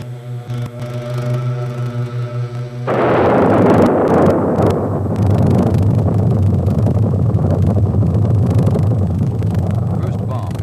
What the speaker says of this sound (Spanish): El 6 de agosto, una primera bomba estalla sobre Hiroshima.